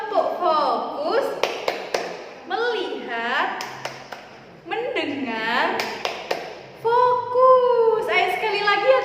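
Sharp hand claps from the rhythmic "tepuk fokus" clapping game land in quick groups, alternating with a woman's chanted words during a storytelling lesson.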